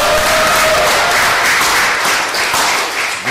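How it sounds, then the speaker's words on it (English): A studio audience applauds a co-host at a cricket show, a dense wash of claps held at steady loudness for several seconds with a brief faint tone near the start. "I just want a round of applause to my co-host next to me"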